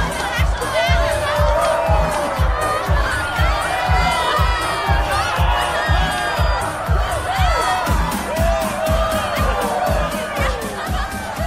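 Dense crowd at a dance party cheering and shrieking loudly and continuously, with overlapping high-pitched screams and whoops over a pounding rhythmic music beat.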